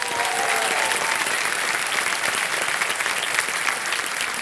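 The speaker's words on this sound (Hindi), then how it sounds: "एक बार फिर तालियों के साथ इनका स्वागत किया जाए" Studio audience at a televised quiz show applauding a contestant's parents from Kakira, Himachal Pradesh: dense, steady clapping filling the room at full volume throughout, with a faint voice briefly audible at the start.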